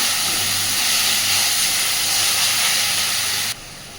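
Onion frying with ginger, garlic and tomato paste in a pan gives off a loud, steady steamy hiss and sizzle that drops suddenly near the end.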